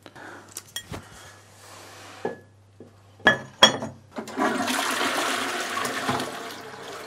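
Toilet flush after a new dual flush button with full and half settings is fitted: a few clicks and clunks from the button, then a loud, steady rush of water rising and continuing to the end, with no talking.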